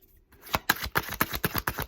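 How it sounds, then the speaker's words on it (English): Tarot cards being shuffled by hand, a rapid series of crisp riffling snaps and slaps in a steady rhythm, close and fairly quiet, with no talking. "I like to watch readers shuffle, and I also like my watchers to watch me shuffle"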